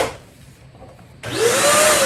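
A Deerma DX700 vacuum cleaner switches on after a quiet pause, its motor rising in pitch as it spins up to a loud, steady whine.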